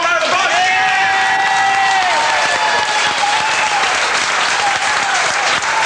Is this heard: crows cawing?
no